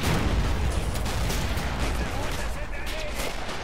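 Heavy German artillery fire in the WWII strategy game Men of War Assault Squad 2 rumbles in continuous booming blasts and crackling explosions, a dense, loud barrage throughout.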